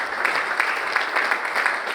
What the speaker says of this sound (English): Can you please give me a round of applause for him?